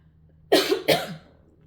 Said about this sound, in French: Pardon, je vais tousser.